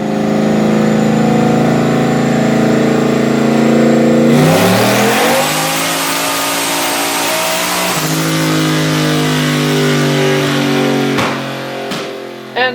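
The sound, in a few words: Nissan VK56 engine with bigger turbo revving on a dyno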